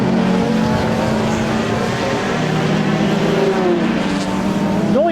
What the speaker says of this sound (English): Noise of these cars is just fantastic, echoing through the little valley here at Cadwell